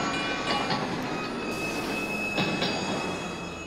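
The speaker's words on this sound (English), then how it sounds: "We're going on a train." Train ride in the video game Splatoon 3: a steady rolling rumble of rail cars with wheel noise and faint squeals, continuous and fairly loud, with no talking.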